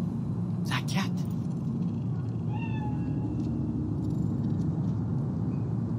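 A cat meows in the video game Cyberpunk 2077, a couple of short mewing calls over a steady low rumble of game ambience.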